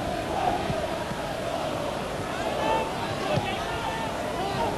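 Football crowd at a 1991 Barnet match, a dense, roaring mass of distant cheering and clapping in a stadium, steady and broad with slight swells, no single voices standing out.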